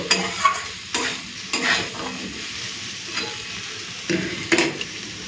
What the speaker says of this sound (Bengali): পোস্ত বাটা দিয়ে দিয়েছি এখন ভেজে নেব